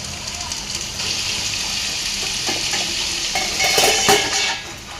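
Potatoes are added to hot oil in a pan and stirred for a potato and tomato curry. A steady close sizzle and hiss runs throughout, with scraping and clinking of the stirring utensil near the end.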